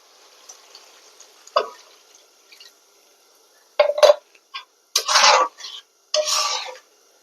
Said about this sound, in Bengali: অল্প একটু জল দিয়ে দিই।